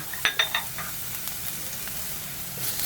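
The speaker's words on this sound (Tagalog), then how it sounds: "paggisa na tayo ng bawang mainit na yung mantika guys, lagay na natin yung bawang" Minced garlic sizzling in hot cooking oil, a steady bright crackle throughout, opening with a few sharp stirring clinks and pops close by.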